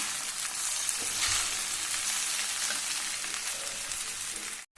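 Soaked sabudana goes into peanuts and potatoes frying in ghee for vrat sabudana khichdi, giving a steady, close hiss of sizzling that holds throughout before a brief dropout near the end.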